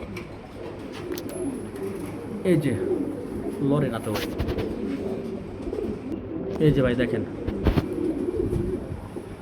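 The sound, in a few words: pigeons cooing in a pigeon farm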